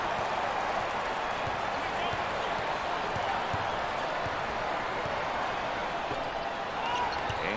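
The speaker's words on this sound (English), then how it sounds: "Royal is getting some love from the crowd now" Basketball arena crowd at an NCAA ACC Tournament quarter-final between Syracuse and Miami, a dense continuous wash of cheering and applause for a player, loud and unbroken, with a commentator speaking over it.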